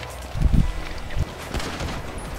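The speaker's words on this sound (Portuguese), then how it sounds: "Nossa, velho, o cara me deu um tiro" Pistol gunshots in first-person GTA Online deathmatch, a quick pair of loud cracks followed by a fainter shot, set against game ambience.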